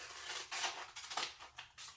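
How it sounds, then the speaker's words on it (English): Scissors make a series of rough, scraping snips through sandpaper, several cuts in quick succession, close and fairly quiet. "cutting sandpaper with scissors will definitely ruin your scissors"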